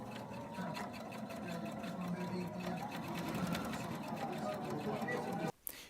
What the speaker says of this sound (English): After, I took it to the sewing machine.